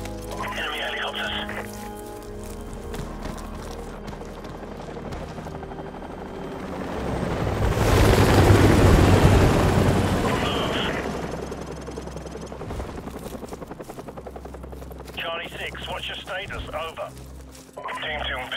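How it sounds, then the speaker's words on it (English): Enemy helicopters roar in from Call of Duty: Modern Warfare Remastered, with rotor noise swelling to a loud peak mid-clip and then fading. Game voices and radio chatter come before and after. "Enemy helicopters."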